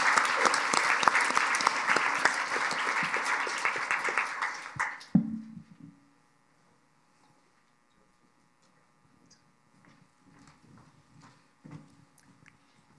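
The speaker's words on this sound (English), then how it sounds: "Let's give them another round of applause." A panel's audience breaks into dense applause that fades out after about five seconds, leaving a quiet room with scattered faint shuffles and taps.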